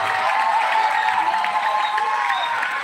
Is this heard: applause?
yes